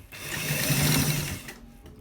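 Sewing machine stitching a front pocket on a garment, a steady close mechanical whir with rapid needle chatter running nearly two seconds before cutting off, no voices.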